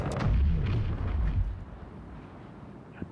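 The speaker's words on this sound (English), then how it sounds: "Eclipse just shot something." A ship's weapon in a space video game fires with a heavy booming blast that rumbles and fades over a couple of seconds, followed by a small distant pop, with no voices.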